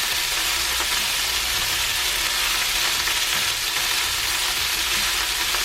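Leftover rice stir-fries in hot oil in a pan, giving a dense, continuous sizzle that stays loud and even throughout with no voices.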